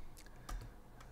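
A few quiet computer keyboard keypresses, shift with page up and page down, tapped at an editing workstation: three or four soft clicks spaced unevenly within about a second, close but faint.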